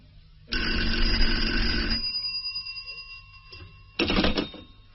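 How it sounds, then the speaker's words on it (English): An old-fashioned telephone bell rings loudly in two bursts, a long ring of about a second and a half followed by a pause with a fading hum, then a shorter second ring, with no voices. "It began with a phone call."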